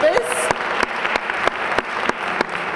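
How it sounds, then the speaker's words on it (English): Audience applause at a women's awards ceremony in Jersey City, a moderate room of clapping with sharp individual claps standing out, steady throughout. "Let's give them a round of applause"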